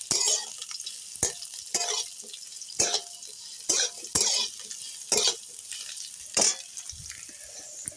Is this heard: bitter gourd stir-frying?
yes